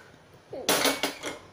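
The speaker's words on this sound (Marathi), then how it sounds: "मग कुकर उघडायचा आहे।" Metal clanks and clatter as the lid comes off a pressure cooker holding cooked suran (elephant foot yam), a few close, sharp knocks after a short hiss in a quiet kitchen.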